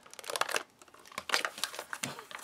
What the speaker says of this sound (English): let's open this thing up. It's got these nice little handy dandy tear notches.